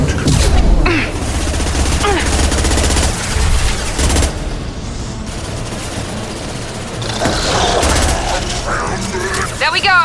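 Rapid automatic gunfire from Mass Effect 2 combat, dense bursts of shots over the opening seconds and again near the end, loud and close, mixed with game effects and a voice talking.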